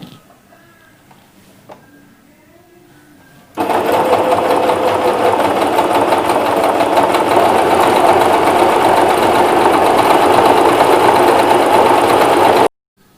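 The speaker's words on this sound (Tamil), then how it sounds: "இப்போ இந்த நார்மல் ஃபுட்டரில் இந்த 9 ஸ்டிச் நான் இப்போ போடுறேன்." A sewing machine runs stitch number 9 under a normal presser foot, starting after a few quiet seconds with some handling, then a loud, fast, even mechanical whir for about nine seconds before stopping abruptly.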